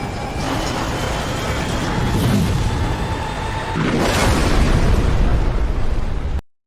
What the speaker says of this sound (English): Korpi grabbed the gold and strapped in moments before the plane exploded into the swamp.